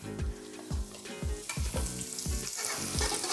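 Vegetables sizzle in hot oil in a pan for salt and pepper tofu stir fry, with steady frying crackle and repeated stirring clatters from a spatula, close and fairly loud.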